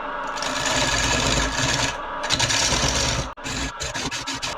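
A rounded square carbide tool cuts a black walnut salad bowl on a wood lathe, making a close, continuous scraping whir. It breaks into quick rhythmic pulses near the end as the tool lifts and bites again.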